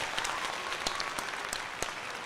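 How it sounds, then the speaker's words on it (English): A baseball stadium crowd at a Phillies versus Royals game applauds steadily, a dense, fairly distant wash of clapping with a few sharper individual claps standing out. "He deserves a round of applause."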